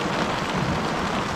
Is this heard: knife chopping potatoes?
no